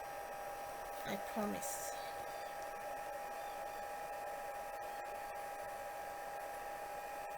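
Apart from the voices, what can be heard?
heat tool blowing hot air to remove glue from a card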